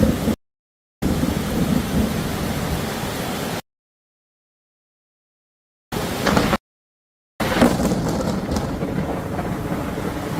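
Thunder from a lightning strike right across the street crashes loudly amid steady heavy rain, the roar broken by abrupt gaps before rumbling on and fading into hissing downpour.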